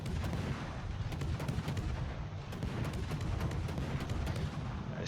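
Warship naval guns firing in World of Warships, a dense continuous barrage of booming shots and sharp cracks layered over a rumbling low end, loud and close throughout, no talk.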